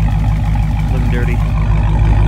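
A car engine idles close by, a steady low rumble with a throbbing pulse that holds even throughout, with no revving.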